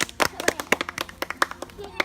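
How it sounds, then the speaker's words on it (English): A small group claps in quick, uneven bursts at a friction firelighting session, fairly close, with a voice mixed in. "Give a round of applause."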